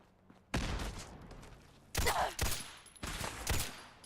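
Gunfire and a grenade blast in the video game Fallout 4, heard as several loud bursts of shots and explosions with quieter gaps between them.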